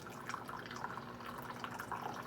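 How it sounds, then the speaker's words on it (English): Steeped homemade garden tea is poured into a cup, a continuous close splashing trickle of liquid running for a couple of seconds with no talk. "The tea should be steeped now, and I'm going to pour some, hopefully, without spilling it."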